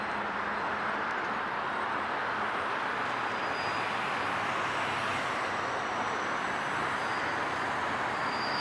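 Metro train at Tiantongyuan North Station on Beijing Line 5, a steady broadband rumble of rolling cars with a faint high whine, continuous and fairly distant throughout.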